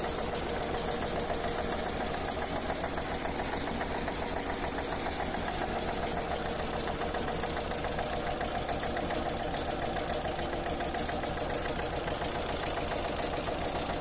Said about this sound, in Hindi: ये एक चाबी में स्टार्ट कर देता है आइसर इंजन को।